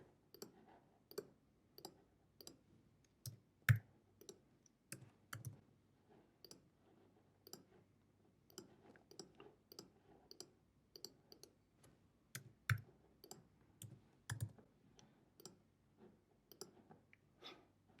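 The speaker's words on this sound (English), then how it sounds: "I'm just clicking through these super fast." A computer mouse clicks quickly, with sharp, quiet clicks in irregular bursts and short pauses in a near-silent room.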